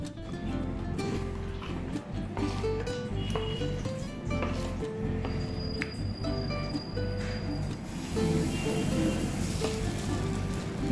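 A semolina dosa sizzles steadily on a very hot pan sprinkled with water, a continuous close frying hiss that swells slightly toward the end.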